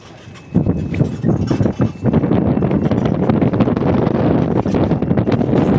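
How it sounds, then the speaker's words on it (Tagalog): Strong, cold wind in Hoi An, Vietnam buffets the microphone in gusty, roaring bursts that settle into a constant loud rush, with no clear speech. "Malamig ang hangin."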